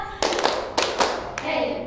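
Classroom group clapping in unison during a game, a few sharp, separate collective claps with short pauses between them, close and fairly loud.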